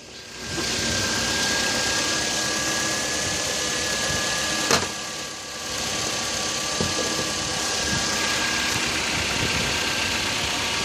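Steady, moderate hum of a 2.5-liter inline four-cylinder car engine idling after a semi-cold start, with faint ticking and a brief click midway, no talk.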